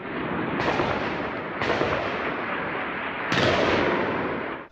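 Gunfire and explosions from an armed attack with rocket launchers and long-barrelled rifles in a district centre, heard as three loud, dense blasts that each roll out into a long, sustained roar.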